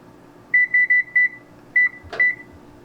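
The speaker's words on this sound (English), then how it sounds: "I'm gonna set the timer to 25 minutes" A kitchen oven timer gives a series of short, clear electronic beeps as it is set, several quick chirps followed by a couple more after a brief pause, with a faint clunk near the end.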